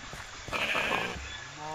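Blocky sheep from the game Minecraft Skyblock bleat once in a short, mid-loud call, with a voice talking over the game sounds.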